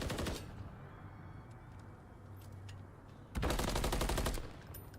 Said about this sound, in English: It's Scrap with the MCW at range